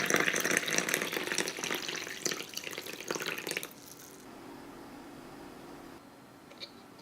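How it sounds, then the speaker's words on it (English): Cold water poured over regular ground coffee beans for cold brew, a loud splashing pour for a few seconds, then quieter trickling and settling liquid. "then you pour cold water over it."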